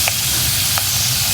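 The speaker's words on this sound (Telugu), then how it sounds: "మన రొయ్యలు అయితే ఫ్రై అయిపోయినాయి." Prawns fry in hot oil in a pan, a loud steady sizzle and hiss close up, with a couple of faint clinks as they are stirred.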